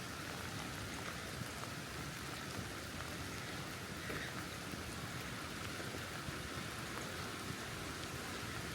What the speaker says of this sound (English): I love that it's raining. It makes it feel more fall.